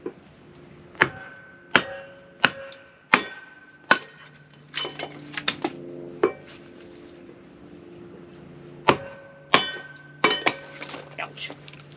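Firewood being struck on a kindling cracker: a series of sharp, ringing metallic hammer blows, spaced about a second apart with a pause in the middle, each ending in a clanging decay, close and loud with no voices.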